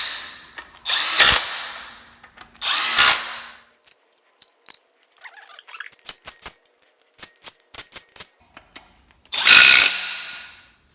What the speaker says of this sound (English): we're just going to go ahead and just zap them down a little bit